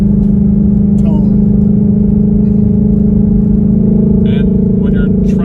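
A 2020 Ford Mustang GT500 with a dual-clutch transmission runs at a steady, loud, low throaty idle heard from inside the car, with people talking over it.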